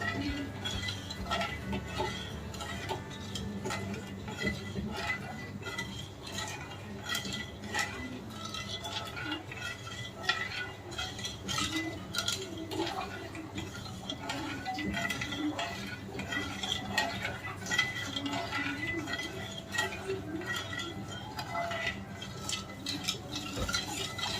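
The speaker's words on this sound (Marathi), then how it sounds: "साखर विरघळत नाहीये तोपर्यंत अशी हलवून घ्यायची." Rava ladoo mixture with sugar being stirred in a pan, giving a continuous scraping and clinking of a spoon against metal, close and quiet, with faint background noise throughout.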